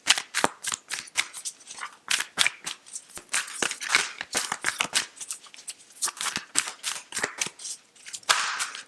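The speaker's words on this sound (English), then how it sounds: "Let's go for the beautiful Yogic Path deck from Sahara Rose. Can we have a card, please, for Taurus?" A Yogic Path tarot deck being shuffled by hand before a card is drawn, a long run of crisp, close, rapid card slaps and riffles in a busy uneven rhythm, with no voices.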